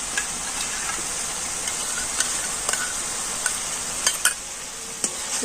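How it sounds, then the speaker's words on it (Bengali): Beaten sour yogurt is stirred into a spice paste frying in a pan, producing a steady hissing sizzle with scattered ticks and scrapes from the stirring utensil, close and fairly loud, with no talking. "টক দইটা দিয়ে আবারও মশলার সাথে ভালো করে কষে নিচ্ছি"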